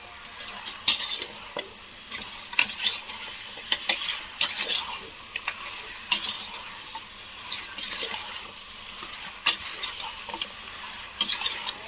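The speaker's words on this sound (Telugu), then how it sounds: "కలుపుకొని కొంచెం హై ఫ్లేమ్లో ఒక 5 minutes మంచిగా మగ్గేసుకోవాలి" Mutton curry stirred in a pan over high flame, with steady sizzling and frying under repeated sharp scrapes and clinks of a utensil against the pan.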